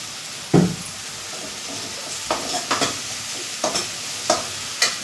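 Green gram (moong beans) being dry-roasted and stirred in a home kitchen pan, with a steady low sizzle broken by several sharp scraping knocks of the spoon against the pan.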